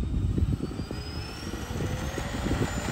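A Ryanair Boeing 737 Max takes off with a low rumbling engine roar and a faint rising whine, steady and moderately loud.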